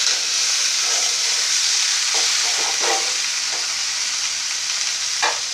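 Okra (ladies' finger) sizzles steadily in a frying pan, a dense continuous hiss with a few soft stirring scrapes; no one speaks.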